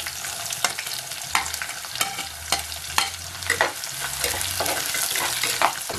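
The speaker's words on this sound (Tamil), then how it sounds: "நான் 2 பெரிய வெங்காயத்தை குட்டி குட்டியா ஃபைனா சாப் பண்ணி வச்சிருக்கேன். இப்ப அதை சேர்த்துடலாம்." Finely chopped large onions frying and being stirred in a clay pot for fish curry, a steady close sizzle broken by regular scraping strokes of the spoon against the pot.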